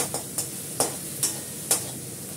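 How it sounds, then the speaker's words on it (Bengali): Potatoes are stirred and sautéed in a pan with spices, giving a steady sizzle punctuated by five evenly spaced scraping strokes of a spoon, close and clear with no talking. "আলুটা কষাবো"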